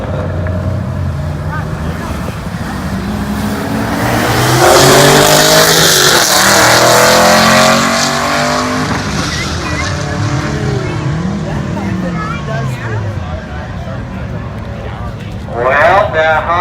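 A 5th-gen Camaro with a loopy cam racing a turbocharged J32 Honda Accord at a street car takeover event, loud engines revving and accelerating past with pitch sweeping up and down, while a person talks over them.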